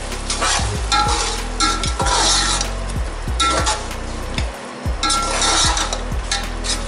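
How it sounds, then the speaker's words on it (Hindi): Mutton and rice for Saudi-style kabsa stirred in a pot, a spoon scraping and clinking in repeated strokes over a steady loud sizzle of frying, close and without talk. "इसको अच्छी तरह मिक्स करेंगे।"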